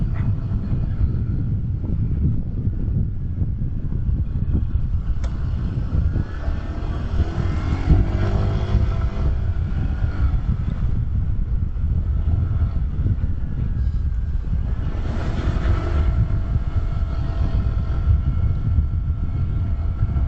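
Strong wind buffeting an action camera microphone during a fast ride, a constant loud low roar with gusty swells and no voices.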